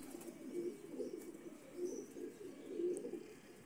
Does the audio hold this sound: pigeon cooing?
yes